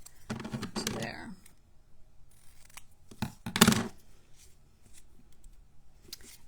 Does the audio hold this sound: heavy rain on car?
no